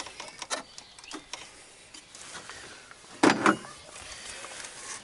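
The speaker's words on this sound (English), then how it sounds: "So first you'll need a 17mm spanner. And you'll crack off this banjo." A 17mm spanner cracks loose a banjo bolt on the diesel fuel return line of a Ford Ranger, Courier, Mazda B2500 or Bravo. A few faint light ticks lead up to one short, loud metallic crack, and the scene is quiet otherwise.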